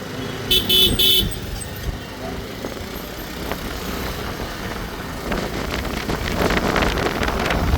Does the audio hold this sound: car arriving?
yes